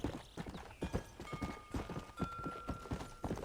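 Horse hooves clip-clop at a steady trot in Red Dead Redemption, a run of close, even thuds with a faint tonal hum in the background and no speech.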